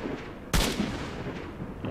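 A single loud rifle gunshot in the video game S.T.A.L.K.E.R.: Shadow of Chernobyl, a sharp close report followed by a short fading echo against a quiet outdoor ambience.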